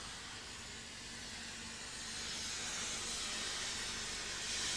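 A narrow gauge double Fairlie steam locomotive on the Festiniog Railway in North Wales gives off a continuous, loud, broad steam hiss that swells slightly toward the end.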